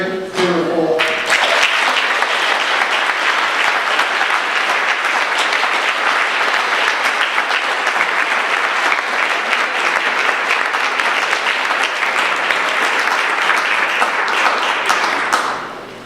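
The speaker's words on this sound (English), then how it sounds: "Let me give a good round of applause for the co-chair, Reverend Mary Ford." Sustained, loud applause from an audience at an awards ceremony for a co-chair, a dense wash of clapping that rises quickly after a brief voice, holds steady for many seconds and then tapers off.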